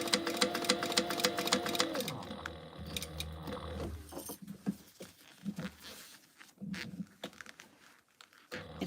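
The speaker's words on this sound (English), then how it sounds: "The tulipy vinyl is sewing really nice as well." A sewing machine runs fast through webbing and tulip-print vinyl for a cargo belt bag, its steady whirring giving way to clicks, taps and handling sounds.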